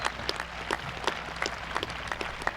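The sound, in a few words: applause at a high school commencement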